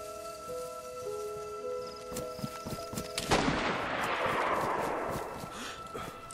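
A single loud gunshot in the survival game DayZ, with a broadband crack about halfway through that rolls into a fading echo over low background noise.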